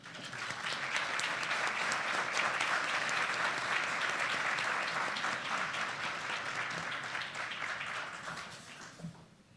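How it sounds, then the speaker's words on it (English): An audience at a West Virginia entrepreneurship event applauds standing students, a dense, steady wash of many hands clapping for several seconds before fading out. "A round of applause to you as well."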